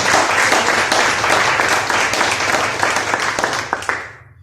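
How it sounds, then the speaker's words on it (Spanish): A church congregation claps together in steady, dense applause that fills the space, loud and close, then thins and fades out near the end. "Le puedo dar un aplauso al Señor."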